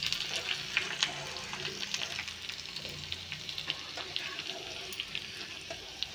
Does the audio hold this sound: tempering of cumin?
yes